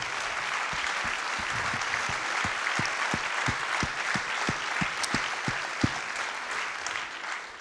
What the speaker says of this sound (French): ça mérite quelques applaudissements.